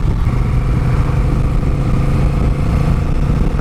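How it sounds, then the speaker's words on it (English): A Honda Rebel 1100 motorcycle engine rumbles loud and close, a steady, continuous drone that is heard alone throughout. "I'm going to rev it up to the lights. Give it a bit of RPMs."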